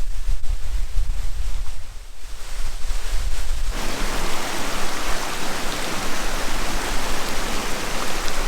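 Steady broadband hiss of light rain falling in the Cirque de Gavarnie valley, softer at first and then abruptly louder and fuller, continuous with no voices.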